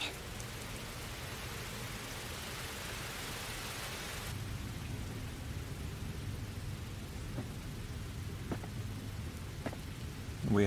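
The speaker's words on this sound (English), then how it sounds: "It's raining." Steady, dense video-game rain hisses throughout, softening slightly partway through, with a few faint drips and low rumbles beneath.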